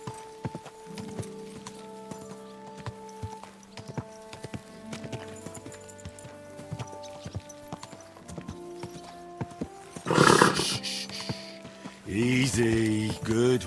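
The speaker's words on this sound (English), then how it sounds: "I keep trying to spur the horse on, but it won't go any faster because we're inside the castle walls." Horse hooves clip-clopping at a steady trot inside castle walls in Kingdom Come Deliverance 2, with rhythmic close hoofbeats, tonal game ambience and a brief burst of horse snorting or whinnying near the end.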